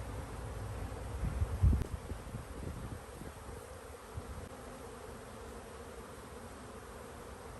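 Honey bees buzz in an opened hive during swarm management as brood frames are moved, a faint, steady drone of many insects with a few louder close passes early on.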